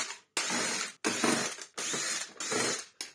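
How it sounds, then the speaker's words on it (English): Screws are undone from the underside of a Hoover Turbopower Autoflex U2604 upright vacuum base, four bursts of close, loud ratcheting whirr from a driver separated by brief pauses. "Then we need to undo all 5 screws from underneath here."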